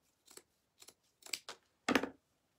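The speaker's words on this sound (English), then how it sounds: "this one is way too long. So we're going to take it and we're going to cut it some." Scissors make four or five short, quiet snips in an irregular rhythm, close up, with the last cut longest, as a tie is trimmed shorter. No one speaks.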